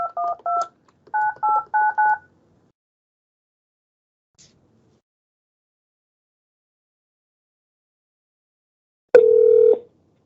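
Touch-tone keypad dialing a call center number: a quick burst of three beeps, then a rhythmic run of six more, followed after a silent pause by a single longer tone, clear and close with no talking.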